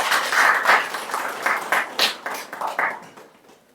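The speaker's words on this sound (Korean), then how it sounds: "큰 박수 부탁드립니다" Audience applause at a launch ceremony for a memorial committee, welcoming a former labor union leader to the stage; a few seconds of scattered clapping that swells with distinct claps, then thins and fades.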